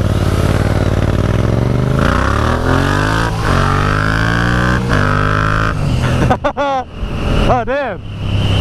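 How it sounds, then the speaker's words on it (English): A brand-new Yamaha MT07 demo motorcycle revs hard in first gear, its engine note climbing steadily as the front lifts into a power wheelie, loud and close, before a voice cuts in over the fading engine. "that was a power wheelie in first"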